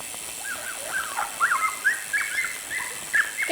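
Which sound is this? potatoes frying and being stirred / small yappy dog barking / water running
small yappy dog barking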